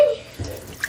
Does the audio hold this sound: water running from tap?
yes